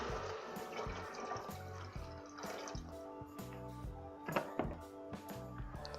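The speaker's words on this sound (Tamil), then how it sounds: "இப்போ பார்த்தீங்கன்னா நான் கொஞ்சம் வாட்டர் ஆட் பண்ணிக்க போகிறேன்" Water poured into a pot while making coconut milk rice, a close liquid splashing and gurgling with rising bubbly tones and a few sharper drips, alone without talk.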